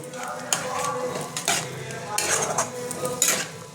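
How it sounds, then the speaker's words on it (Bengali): Masala with chopped tomato stirred and fried in a pan for a Bengali fish and potato curry, with loud metallic spoon scrapes against the pan over a steady sizzle, and a voice speaking faintly beneath. "এবার আমি এই মশলাটা খুব ভালো করে কষিয়ে নেবো।"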